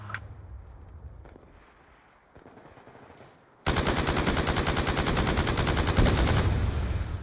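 Gunfire in the Black Ops 2 video game during a Gun Game match, with scattered shots first and then a loud, sustained rapid automatic burst at close range.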